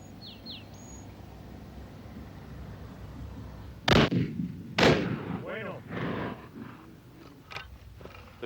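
Two loud, sharp gunshots a second apart ring out at an outdoor shooting club on 23 acres at Cortijo Grande near Mojácar, Almería, Spain, followed by fainter echoing reports over a steady background hum, with faint bird calls early on.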